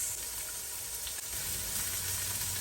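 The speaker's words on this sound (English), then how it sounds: "1 tablespoon olive oil. Saute the onion." Onion sautéing in olive oil in a large pot, a constant close sizzle with a faint stir partway through and no voices.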